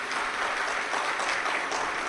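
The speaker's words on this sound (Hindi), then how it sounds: "एक बार जोरदार ताली बजाकर साथ ही पाए" Loud, sustained applause from a large audience at a live Shiv Mahapuran religious discourse at Kubereshwar Dham, a dense clapping roar with no break.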